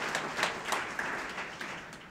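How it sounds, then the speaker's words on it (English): A community college lecture audience gives Norma a round of applause, with soft, scattered clapping that is fairly faint and continuous throughout. "So give Norma another round of applause"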